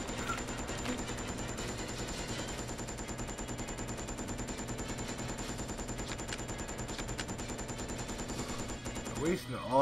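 Sustained rapid gunfire in Resident Evil Code Veronica, a continuous machine-gun-like stream of shots at steady volume lasting the whole stretch, with a voice briefly speaking over it.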